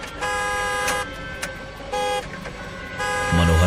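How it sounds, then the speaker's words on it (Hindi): A car horn sounds in several sustained blasts with short gaps between them, loud and close, ending in a deeper low-pitched tone. "उस कार का हॉर्न ऐसे बजा जैसे कोई अंदर बैठकर बजा रहा हो"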